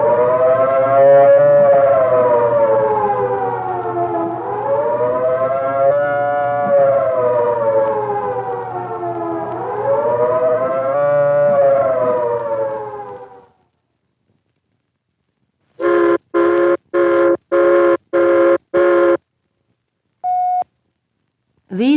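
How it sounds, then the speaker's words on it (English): A civil defense take cover signal: a loud warbling siren rises and falls continuously for about thirteen seconds, then after a pause comes a series of short, evenly spaced blasts, with one brief tone near the end. "The second signal is the take cover signal, a 3-minute warbling tone or series of short blasts like this."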